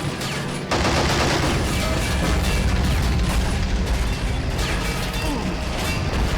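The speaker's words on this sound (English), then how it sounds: "Taking a lot of fire. Nearly a direct hit from the artillery." Dense gunfire and booming artillery from plastic army-men tanks and troops in Army Men of War, a steady roar of shots and blasts that starts abruptly and keeps going loudly throughout.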